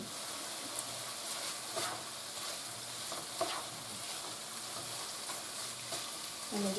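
Pineapple chicken mixture sizzles and fries in a pan while being stirred, a steady hissing bed broken by soft scrapes and bumps at irregular intervals.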